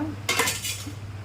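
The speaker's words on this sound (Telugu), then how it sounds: "నేను ముక్కలు కట్ చేస్తున్నాను" A knife cuts raw green mango into pieces for pickle, a brief close clatter of blade and utensil against a quiet background.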